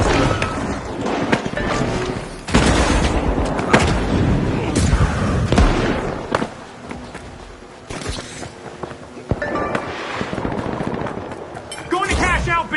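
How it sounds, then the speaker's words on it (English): Chaotic firefight in the shooter game The Finals, dense gunfire and explosive bursts layered over continuous loud action, with sharp blasts standing out near the start and middle. "Ready to detonate!"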